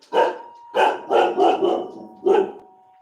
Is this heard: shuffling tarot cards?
no